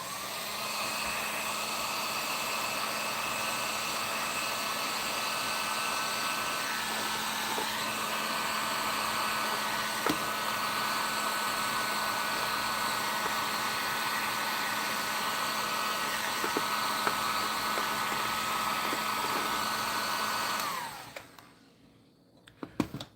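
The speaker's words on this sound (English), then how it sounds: "let's heat gun his crotch" Heat gun blasting hot air onto a plastic toy spider skeleton, a loud steady whooshing roar running continuously for about twenty seconds before cutting off, followed by a few small clicks.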